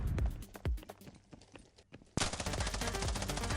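Gunfire in the Scarfall 2.0 video game during a gunfight, scattered loud shots and thuds giving way to a dense, sustained burst of rapid automatic fire that runs to the end.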